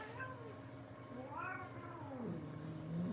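A stressed house cat lets out drawn-out, angry meows and a low caterwaul, several wavering cries close by and fairly quiet in a calm room.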